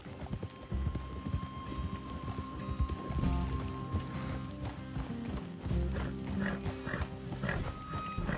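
Horses walk along in Red Dead Redemption 2, steady clip-clop hoofbeats on hard ground with creaking tack and a faint snort, fairly close under quiet game ambience.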